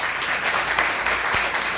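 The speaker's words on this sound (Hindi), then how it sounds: "एक बार तालियां शाहीन मैम के लिए" An audience claps for a woman called to the front, a short burst of steady, fairly loud applause filling the moment without talk.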